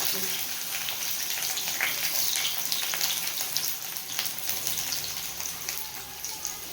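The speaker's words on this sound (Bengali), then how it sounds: "আদা, রসুন, কাঁচা লঙ্কা আর টমেটোটা সব ভেজে নেব প্রথমে।" Ginger, garlic, green chillies and tomato frying in a pan make a dense crackling sizzle with scattered sharp pops, close and fairly loud, holding steady for several seconds without talk.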